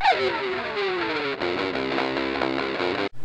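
Electric guitar through the Auraplug Fast Stone overdrive plugin, a mild crunchy overdrive rather than heavy distortion: a bending note sliding downward, then rhythmic chugging chords ending in an abrupt stop, played alone.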